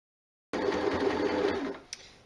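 A sewing machine stitches a jersey hem on a top, whirring steadily and close for over a second with a rapid needle rhythm, then slowing and stopping with a small click.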